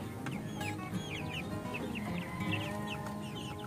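Backyard broiler chickens cluck and chirp in overlapping bursts, several birds close by amid a low background hum, no talk.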